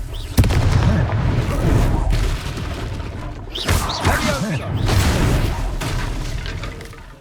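Confringo fire spell explosions in Hogwarts Legacy, a sharp blast followed by booming, rumbling bursts and game effects, with character voices calling out over the action.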